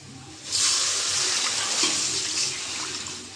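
Water splashes into a pan of frying onions with garlic and green chillies as a leafy greens dish is cooked, a steady loud hiss and sizzle rising abruptly and holding for several seconds.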